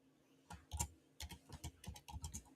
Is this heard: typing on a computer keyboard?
yes